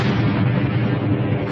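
A movie hand grenade explosion inside a shark, heard as a sustained heavy rumbling boom with dense low-end roar that fills the whole moment without letting up.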